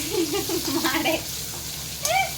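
Curry leaves and crushed garlic fry in hot oil in a home kitchen, giving a steady close sizzle while a person talks over it.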